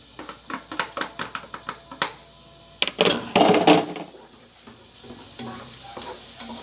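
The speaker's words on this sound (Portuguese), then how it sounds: "E aqui eu vou colocar a cebola para fritar aqui junto do alho." Onion frying with garlic, pepper and bell pepper in a pan for a fish stew: quick spoon taps and stirring clatter, then a loud burst of sizzle that settles into a steady hiss.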